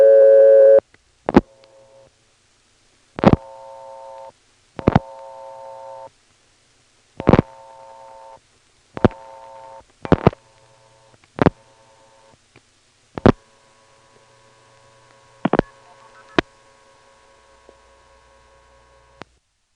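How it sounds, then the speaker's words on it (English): Multifrequency signaling tones from a 1977 step-by-step telephone exchange in Ramseur, North Carolina, heard as a series of sharp clicks each followed by short steady tone bursts, spaced irregularly over a quiet line with a faint hum. "dial something that goes off hook, triggering the identifier to spill out that strange MF sequence again"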